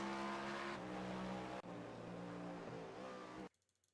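Race cars, including an LMP2 prototype, roar around Le Mans in the iRacing sim, a continuous high engine whine with gear shifts and a brief break before fading into faint clicks.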